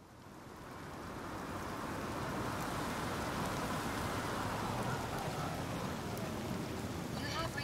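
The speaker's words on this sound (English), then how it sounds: "This rain's making me sleepy." Steady, dense rain hiss from the video game Detroit: Become Human swells in over the first second and then holds as an even, close downpour with no pauses.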